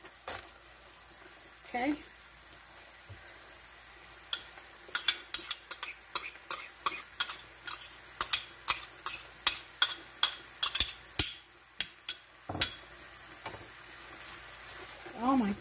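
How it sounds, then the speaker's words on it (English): Onions and peppers sautéing in a pot for Puerto Rican chicken soup, stirred with a utensil that clinks against the pot in quick irregular taps over a low sizzle. Someone says a brief word near the end. "Now I'm gonna put in our veggies, onions, and peppers."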